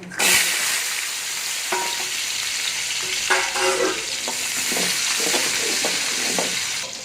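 Garlic sizzles steadily in hot oil with chana dal and urad dal in a pan, for a tomato-garlic dish. Crisp spoon scrapes and taps of stirring cut through the close, continuous frying hiss.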